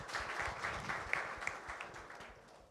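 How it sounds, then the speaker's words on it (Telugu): A church congregation claps together during a Telugu worship service, faint and somewhat distant, with a few sharper individual claps standing out from the soft, roomy patter. "మొదటగా అందరు దేవునికి చప్పట్లు కొట్టి దేవుని మేము పడదాం"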